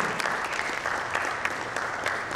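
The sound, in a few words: audience applause for panel speaker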